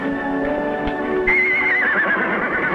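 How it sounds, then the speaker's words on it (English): A horse in a 1950s television Western whinnies once, loud and close, a long quavering neigh that rises and wavers before trailing off, with faint hoof clops beneath. "You know, Ellie, I do believe that horse whinnies with a Southern drawl."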